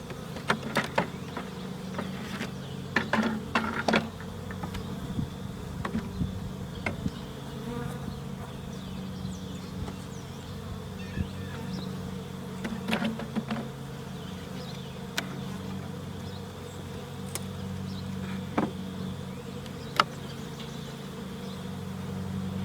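Honey bees from a newly installed package buzz steadily throughout a hive inspection, a dense, continuous drone close by with individual bees zipping past, mixed with faint handling knocks and a low background rumble.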